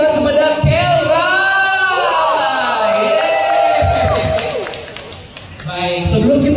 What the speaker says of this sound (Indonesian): sekali lagi saya ingin beri tepuk tangan kepada Kelra